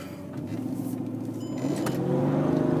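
A supercharged Mercedes E55 AMG rated at 470 horsepower, its engine rumbling and building in revs, heard from inside the car as a low, steady drone rising slightly in intensity.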